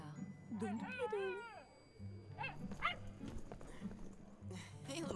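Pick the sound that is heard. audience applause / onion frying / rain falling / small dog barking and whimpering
small dog barking and whimpering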